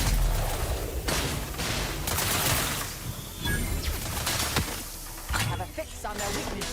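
Gunfire in The Outer Worlds, volleys of shots and crashing impacts rattling through a busy combat mix, with game voices speaking over parts of it.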